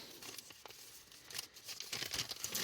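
A thin plastic zip bag rustles and crinkles up close in quick, scratchy bursts, growing busier toward the end, with no one talking.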